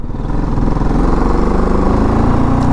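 A BMW GS motorcycle engine running on a rough off-road mountain track, a loud, close, steady throbbing drone that holds the whole time without any speech.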